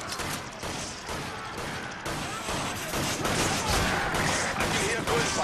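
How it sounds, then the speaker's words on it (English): Rapid bursts of gunfire crackle through a dense, noisy game soundscape, steady and fairly loud for several seconds, with no clear pauses. "I can hear gunfire."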